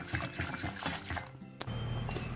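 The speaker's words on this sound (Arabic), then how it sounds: "عاد نزيدو دوك 2 ملاعق ديال ماء الزهر." Two spoons of orange blossom water pour into a mixture heating on the stove, a short liquid splash and trickle heard close up over a steady low background hum.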